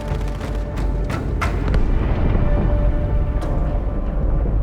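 A deep, rumbling explosion from Halo 2: Anniversary, the blast erupting inside the ship Athens, rolls on as a loud, sustained low roar with a few sharp crackling bursts early on.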